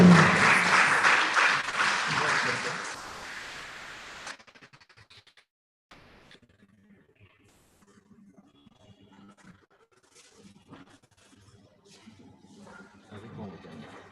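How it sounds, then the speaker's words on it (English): Audience applause at a success seminar breaks out loud and dense, a sustained burst of many hands clapping for a few seconds before it cuts off into quiet room noise and faint movement. "Please a hand of applause."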